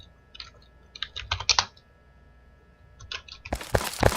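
Keys clatter on a computer keyboard during a Garry's Mod session: two short runs of quick, close taps, a pause, then a louder, denser flurry of keystrokes.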